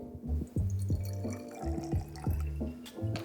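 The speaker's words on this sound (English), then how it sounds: "we're simply gonna pour this into a small bottle." A mix of gin, dry vermouth and olive brine is poured into a small bottle, making a rhythmic run of close glugs and trickles that repeat evenly, with no voices.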